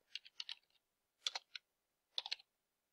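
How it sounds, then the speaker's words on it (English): Someone types tags on a computer keyboard, producing three short, faint bursts of quick plastic key clicks separated by brief pauses in a quiet room. "So I'm going to type in my tags."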